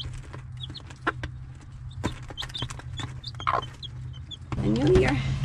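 A hen clucks and murmurs near her nest in a backyard coop, with other chickens softly vocalizing around her and a louder burst of clucking near the end.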